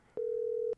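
A steady telephone dial tone rings out alone for about half a second as a call is placed, clean and fairly loud against a quiet background.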